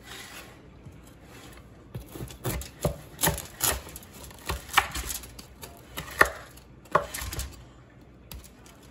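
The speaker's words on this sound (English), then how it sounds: "So now we'll cut up this calzone." A knife cuts through a baked Margherita calzone, giving a run of crisp, irregular chopping thuds and crunches, close and moderately quiet, alone without talk.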